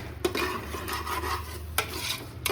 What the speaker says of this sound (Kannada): ಇವಾಗ ಇದನ್ನ ಹಸಿ ಸ್ಮೆಲ್ ಹೋಗೋ ತನಕ ಫ್ರೈ ಮಾಡ್ಕೊಳ್ಳಿ.